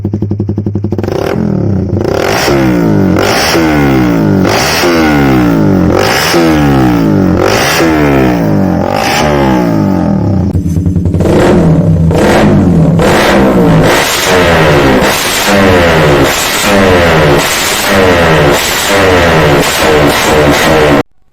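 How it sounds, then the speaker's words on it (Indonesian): A motorcycle with a racing exhaust revs hard again and again, loud and close, each throttle blip rising and falling in a raspy, popping roar. "ini dia perbandingan dengan knalpot racing"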